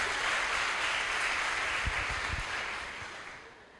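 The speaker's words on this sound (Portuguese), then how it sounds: "Vocês podem aplaudir Jesus pela vida delas." Applause from a congregation at a church congress, a dense sustained wash of clapping that fills the hall and slowly fades toward the end, with a few low thumps underneath.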